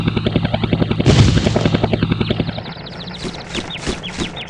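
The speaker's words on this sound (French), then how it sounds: "Sergent, faites préparer un hélicoptère." A military helicopter's rotor beats loudly and steadily at first, then the heavy chopping drops away to a lighter, more distant rumble with scattered sharper noises.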